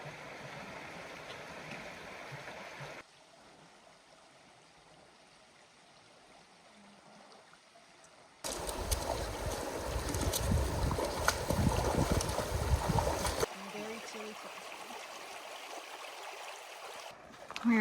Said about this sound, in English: We have a couple of water crossings coming up, and we're about to get to our first one.